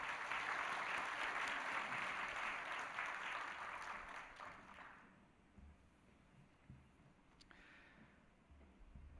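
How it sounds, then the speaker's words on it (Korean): Congregation applauding during a Korean church service, a dense, sustained clapping wash that fades out after about five seconds, leaving a quiet room with faint movement. "다시 한번 큰 격려 박수"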